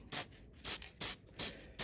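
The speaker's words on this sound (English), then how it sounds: "I'm going to go ahead and spray some adhesion promoter, and using the Color Bond adhesion promoter" Color Bond adhesion promoter sprayed from an aerosol can onto car interior door panels: four short, close hissing bursts in a steady on-off rhythm, with brief pauses between them.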